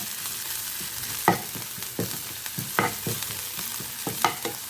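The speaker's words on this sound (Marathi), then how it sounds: "आता मी यामध्ये ही लसूण आल्याची पेस्ट घालते।" Garlic-ginger paste sautéing in a pan while making a cluster beans dish, with a steady oily sizzle and repeated scraping knocks of a spoon stirring against the pan.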